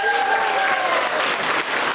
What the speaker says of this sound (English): round of applause for the aunts